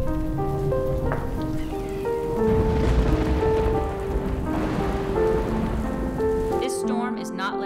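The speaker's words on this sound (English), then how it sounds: "Storm is not letting up anytime soon." Heavy rain pours down steadily through a storm, a dense wash of drops under a tonal music bed, with a sharp change near the end.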